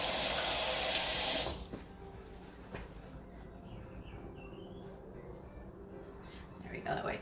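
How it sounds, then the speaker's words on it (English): Running tap water pours loudly into a kitchen sink for about a second and a half while hands are washed, then cuts off, leaving faint handling noises and quiet room sounds. "Let me wash my hands real quick here"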